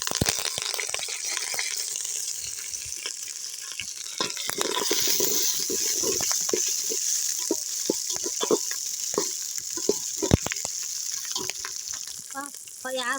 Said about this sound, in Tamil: வெந்தயம் நல்லா பொரிஞ்சிடுச்சு வெங்காயம் சேர்த்துப்போம்